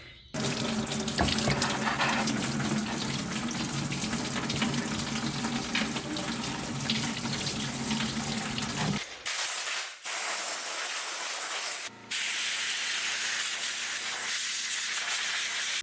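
Water sprayed onto a motorcycle throttle body from a ZX14 engine, taped over at both ends, a loud steady hissing rush that cuts out briefly twice before resuming with a lower, thinner flow.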